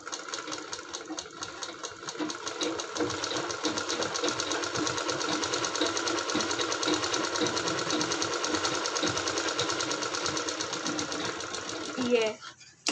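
A sewing machine runs a half-inch seam to attach a fabric strip, a rapid, even mechanical rattle that continues steadily and stops abruptly just before the end, with quiet talk over it.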